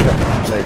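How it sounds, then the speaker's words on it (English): An anti-tank grenade blast in the Battlefield 1 video game, a dense, loud burst of rumbling noise that fills the moment, likely with a voice mixed in. "Anti-tank grenade for the win."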